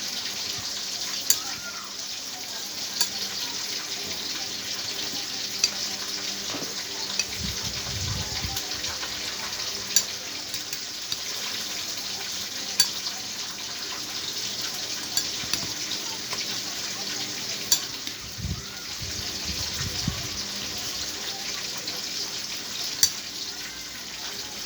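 Spices being stirred and mixed into a cooking dish in a home kitchen, a faint continuous scraping and soft sizzle under steady background hiss, with a few sharper clicks of the utensil against the pan.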